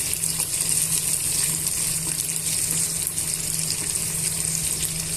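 Brinjal and tomato curry ingredients frying in a pan: a steady, close, even sizzle with a low hum underneath, continuous and without talk.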